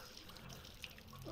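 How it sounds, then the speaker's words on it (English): Very hot water runs from a tap in the VR game Rick and Morty VR, a soft, brief, steady trickle and splash, quiet in the background. "Very hot water."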